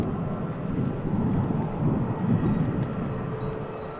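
At Manchester Airport, a Boeing 787 Dreamliner lines up on the runway, its engines a steady, distant low roar that swells slightly midway.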